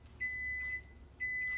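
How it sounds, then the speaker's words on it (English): A microwave oven gives two long, high-pitched beeps with a short pause between them, clear and close against a quiet room. "Now the microwave is gone off."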